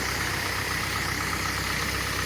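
Kubota engine running steadily while powering a weed-spraying rig, a constant close droning hum with even low rumble throughout and no voices.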